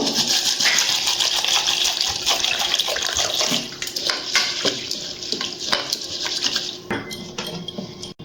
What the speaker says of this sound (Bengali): সাবুটা আমি 2-3 বার জল পাল্টে ধুয়ে ভিজিয়ে রেখে দেবো।